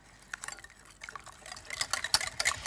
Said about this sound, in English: And now we whisk this together.